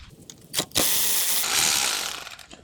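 A Torx T25 bolt holding the ECU on a 2023 BMW S1000RR is undone with a hand tool, giving a couple of short clicks followed by a sustained ratcheting whir, close and fairly loud.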